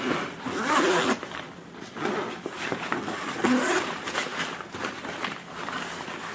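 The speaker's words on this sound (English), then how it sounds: "you can uncinch the straps, unzip in the compartment, reach what you have" A zipper on a compartment of a travel bag is pulled open in several quick, close rasping strokes, with light handling noises between them.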